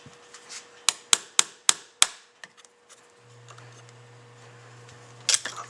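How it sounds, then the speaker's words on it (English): Five sharp, loud metallic whacks in quick succession strike a putty knife wedged between the halves of a Carter 3943S dual action fuel pump, followed by a couple of lighter taps, a low hum and a final clatter. "A few good whacks, and it'll come apart."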